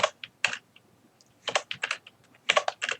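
Computer keyboard keys pressed in quick bursts, with clusters of sharp clicky taps separated by short pauses, close and clear, with no voices.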